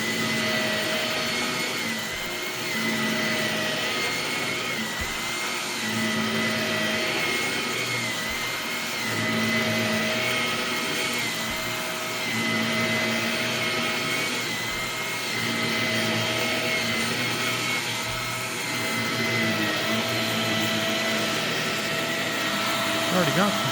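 A Shark Navigator NV22 vacuum cleaner runs steadily in a living room, a loud continuous motor whine and airflow roar with slight swells as it moves across the floor, with no talk.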